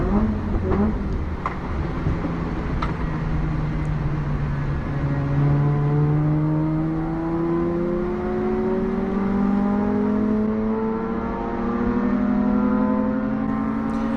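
A race car accelerating on a rain-soaked circuit gives a loud, continuous engine drone whose pitch climbs and falls through the revs, with a steady wash of road and spray noise under it and no voices.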